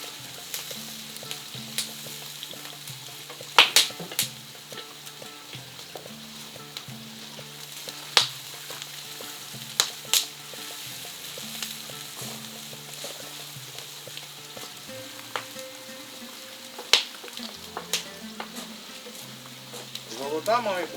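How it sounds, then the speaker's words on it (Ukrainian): Chopped onions sizzle and fry in a kazan over a strong, high flame, with steady crackling and occasional scraping stirs throughout, while a voice talks intermittently in the background. "Цибульку, цибульку перемішуємо, мабуть."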